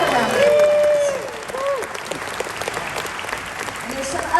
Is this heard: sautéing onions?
no